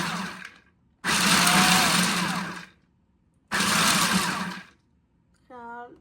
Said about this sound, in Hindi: तो चॉपर में दरदरा सा पीस के तो मिक्स करती हूँ